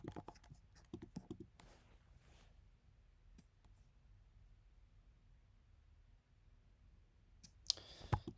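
Rapid clicking of computer keyboard keys at a desk during a coding session, quick bursts of typing near the start and end with quieter, sparse taps between, close and clear with no talking.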